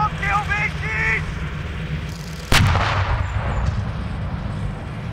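A live round fired in a military firing exercise at a training range in Saxony-Anhalt, a sudden loud shot halfway through with a rumbling echo trailing off, preceded by a brief shouted German voice over steady background noise.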